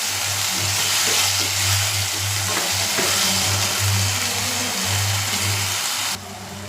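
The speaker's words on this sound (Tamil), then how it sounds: "இப்போ நல்லா ஒரு 2 நிமிஷம் நல்லா அது வதங்கி வரட்டும்" Green chillies sautéing in a pan, a steady, loud hiss of frying oil with a low hum running underneath throughout, dropping slightly in level at the very end.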